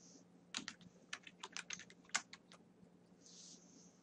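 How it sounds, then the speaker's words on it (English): Quick, irregular clicks of typing on a computer keyboard: roughly a dozen light keystrokes in a burst, fairly faint and close, with no talking. "So you have to type in the little star dot capital IFO, enter"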